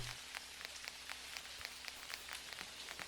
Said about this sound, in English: None of my animals sleep in the rain.